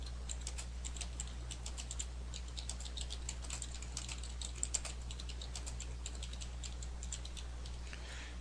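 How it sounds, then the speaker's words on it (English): Rapid, uneven keystrokes on a computer keyboard while entering notes in electronic medical record software, with a steady low hum underneath; no talking. "Now if I wanted to type, I can actually hit my spacebar and type as well"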